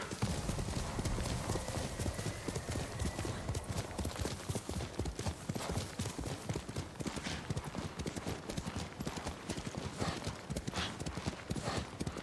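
Steady clip-clop of horse hooves at a quick, rhythmic gait in the video game Ghost of Tsushima, loud and continuous, with an occasional whinny and game sounds underneath.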